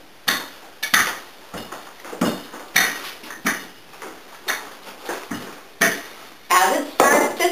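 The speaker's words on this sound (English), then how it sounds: "Okay, here we go, rolling the dough." Rolling pin working thin ravioli dough on a wooden board, a series of regular knocking rolls and clacks repeating about every half second, close and fairly loud.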